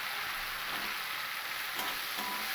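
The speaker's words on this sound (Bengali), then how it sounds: "এবার এর মধ্যে আমি দিয়ে দেবো ভেজ মানে কেটে রাখা টমেটো" Chopped tomatoes go into a spice masala already frying in oil, giving a steady, even sizzle throughout with a soft stirring scrape near the end, and no talking.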